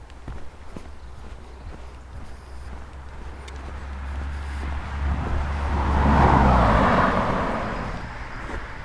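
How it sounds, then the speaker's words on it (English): Road traffic in Cornwall heard from a footpath, a vehicle swelling from a distant rumble to a louder pass and fading again over footsteps and outdoor ambience. "I can hear the traffic now, so another road is imminent."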